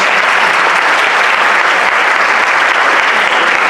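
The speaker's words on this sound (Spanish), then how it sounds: "Un aplauso para él" Fans at a Star Wars actors' panel at a Spanish comic convention applaud loudly and continuously, a dense wash of clapping that holds at full strength throughout.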